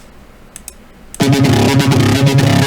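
Serum software synthesizer oscillator playing a buzzy square or saw-type tone, starting abruptly after a second of faint clicks and a brief spoken word, then a loud, dense pulsing bass pattern.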